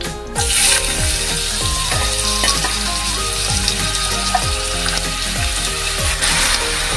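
Potatoes frying in hot oil for an omelette chop, a steady sizzle running throughout beneath repeated clattering and scraping from stirring.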